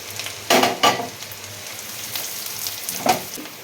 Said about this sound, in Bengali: আর কাজু আর কিশমিশ একসঙ্গে দিয়ে মেজে নেব